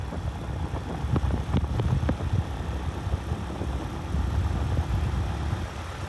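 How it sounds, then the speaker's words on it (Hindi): A motorcycle engine, kick-started, runs at a steady low idle with a rough mid-range rumble and a few sharp clicks near the start, close by and moderately loud. "मारते हैं किक मोटरसाइकिल को, निकलते हैं इंशाल्लाह।"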